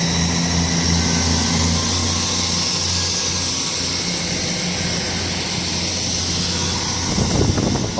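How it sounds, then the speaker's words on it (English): SWR Class 158 diesel passenger train, unit 158887, pulling away from St Denys station toward Chelmsford: a steady loud engine drone with low harmonic hum throughout, ending in a rougher rumbling burst near the close, no talk. "Now departing is the 10:41, beautiful SWR livery"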